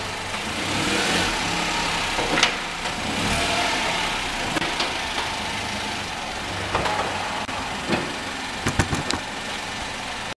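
A Peugeot 108 petrol car runs at idle during an emissions test, a steady, loud mid-pitched engine drone with a few brief rises and clicks, heard close and alone.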